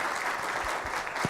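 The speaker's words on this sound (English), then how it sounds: "Will you please give them a big," A dense, steady round of applause from a business summit audience in a hall, continuous and even throughout.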